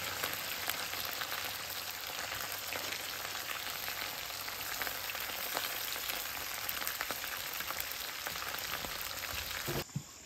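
Onion fries in a breakfast skillet, giving a steady, dense sizzle that continues evenly throughout at moderate level, with faint pops and crackles.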